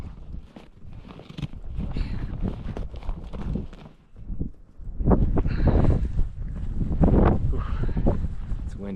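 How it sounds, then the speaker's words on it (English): Gusty wind blows across the east ridge of Mount Yale during a ski ascent, buffeting the microphone with loud, irregular low rumbles that ease briefly before surging back. "windy up here, guys."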